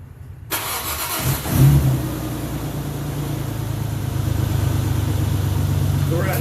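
A 2002 Isuzu Trooper LS with the 6VE1 V6 cranks briefly and catches, then settles into a steady, close-miked idle, with a short surge of revs right after start-up.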